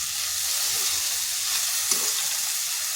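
Vegetables with salt frying in a pan on a medium flame, giving off a steady hissing sizzle with faint stirring scrapes and one small knock.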